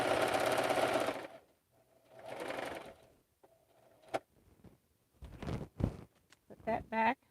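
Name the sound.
sewing machine stitching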